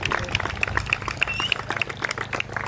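Indoor audience clapping at a talk, a dense run of hand claps and a few whoops that rise and ebb over a low room hum, with no talking.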